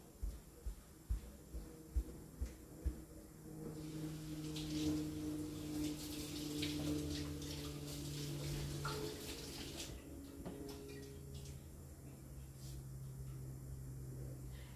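Celery is rinsed under running tap water in a kitchen: a few soft ticks at first, then a steady, fairly quiet gush of water that lasts to the end.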